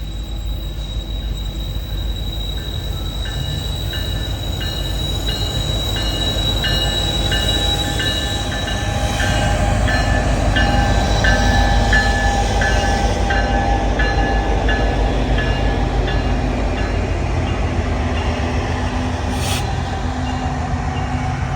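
A freight train led by an SD70ACE locomotive rolls slowly into Greenville Yard in South Carolina. A continuous low rumble runs under it, with steady high wheel squeals and flange screeches throughout and a brief faint horn note near the end.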